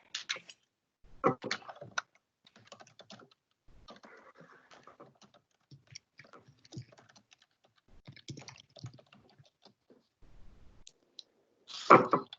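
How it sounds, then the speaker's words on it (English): Typing on a computer keyboard during an online council meeting, quiet scattered bursts of key clicks with pauses between them and a louder flurry at the end. "I'm typing into the chat, Aisha."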